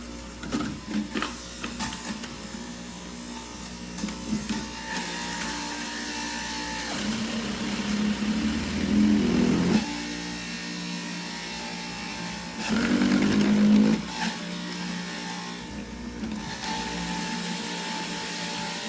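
A Jack Lalanne Power Juicer Express grinds through a batch of celery, a steady loud motor whir with rattling and surges as stalks are pushed in, straining harder around the middle and again later.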